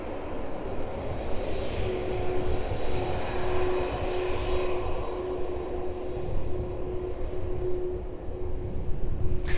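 A Boeing 767 arriving from JFK New York rolls down the runway at East Midlands Airport, a constant loud engine roar with a steady high whine running through it.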